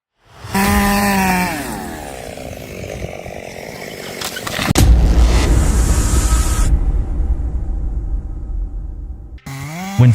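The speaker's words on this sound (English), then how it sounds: "When facing giant trees, sometimes wider than a car, only a high-powered chainsaw can get the job done." A high-powered chainsaw tears into a giant tree, engine revving up then holding a loud, rough, sustained cutting roar before a sudden stop and restart.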